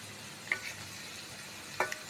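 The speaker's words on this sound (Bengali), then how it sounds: "প্রথমে দিলাম টমেটো টমেটো নিয়ে আবার ওই তিরিশ সেকেন্ড মতো একটু হালকা নাড়িয়ে নেব" A spoon or spatula stirs tomatoes in a cooking pan, giving two quiet, brief clinks against the pan over a soft, low background hiss.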